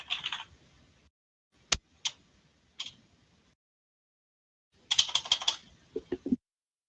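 Computer keyboard typing in a quiet room: a few isolated key clicks, then a denser burst of rapid keystrokes, crisp and close with silence between.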